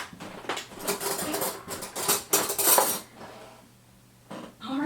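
A spoon clinks and scrapes against a dish of garlic mustard pesto in a quick run of light metallic taps, then falls quiet before one more scrape.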